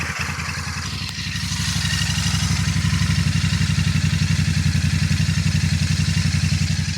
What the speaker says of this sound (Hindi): ये जो आपने एग्जॉस्ट नोट सुन रहे हैं ये इसका आइडल साउंड है